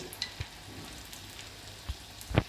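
Pepper vada (milagu vada) cooks slowly in hot oil, a quiet continuous bubbling fry broken by a few sharp clicks and taps, with no one speaking.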